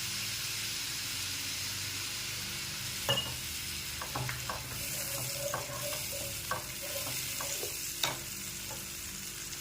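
Steady sizzling of masvadi filling frying in hot oil, with occasional clinks and scrapes of a spoon stirring the pan.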